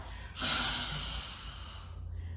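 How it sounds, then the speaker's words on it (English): A lion's breath yoga exhale in a prenatal yoga class: one forceful, breathy rush of air pushed out through a wide-open mouth, close and clear, then trailing off. "Exhaling, really open the mouth, show the tongue side out."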